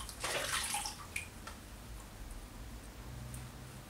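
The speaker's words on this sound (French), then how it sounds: "Donc, Bon, on va rincer." Water splashes as a dried blue L'Oréal Pure Clay face mask is rinsed off with a washcloth: a close, loud burst of running and splashing at the start, then a few drips and light clicks fading into quiet.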